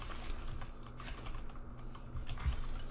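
A computer keyboard clatters with rapid, irregular key clicks during an Apex Legends gaming session, a steady quiet typing texture that runs throughout without speech.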